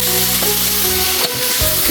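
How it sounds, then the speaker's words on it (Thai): Sliced chicken stir-frying in a hot pan for a northern Thai dish, a loud continuous sizzle and crackle with scraping stirs, close up and without talk. "ไก่ที่เราซอยไว้ใส่ลงไปเลยนะครับผม"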